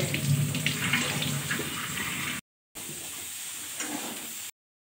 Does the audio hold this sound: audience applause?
no